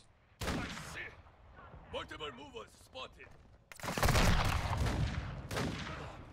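Gunfire in Call of Duty: Modern Warfare II, with loud broadband blasts and bursts near the start and again in a heavy roaring stretch later, mixed with game effects and a voice in between.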